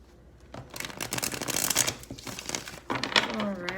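Tarot cards are shuffled repeatedly in rapid bursts of riffling and slapping, close up, with brief pauses between shuffles and a soft high tone near the end.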